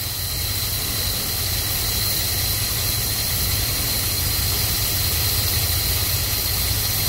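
A carbureted car engine with a Holley carburetor idles steadily during idle mixture adjustment, a constant loud low rumble with a hissy, airy wash on top and no other sounds.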